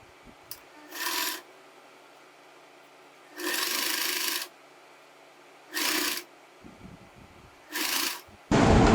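A sewing machine runs in short bursts, lock-stitching kurti neck fabric, with quiet pauses between each run of stitches and a louder burst at the end.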